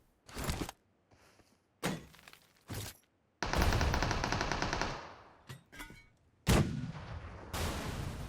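Gunfire in a shooter video game comes in close, sharp bursts: several short volleys separated by silence, then a sustained rapid automatic stream and a final loud barrage.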